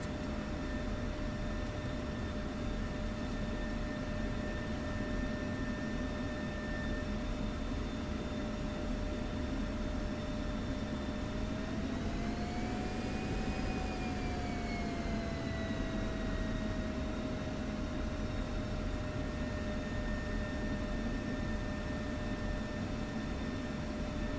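Jet engine of an F-16C in the DCS flight simulator whining steadily while taxiing, with a constant high turbine tone that swells and bends in pitch midway over a broad rushing roar.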